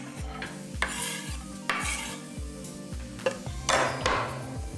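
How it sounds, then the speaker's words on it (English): Shallots cooking in a pan on low heat, with a spoon stirring and scraping against the pan in repeated strokes over a faint sizzle, close and alone without speech. "Add your shallots to your pan."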